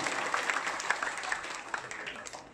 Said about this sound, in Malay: Ya, tepuk tangan ini.